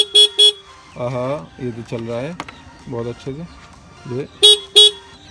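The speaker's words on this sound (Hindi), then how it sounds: "ये हॉर्न वाली पोजीशन पर था तो इसलिए हॉर्न बज रहा था" An electric horn on a bike beeps in short paired honks at the start and end while its wiring is tested, close and loud, with someone talking in between.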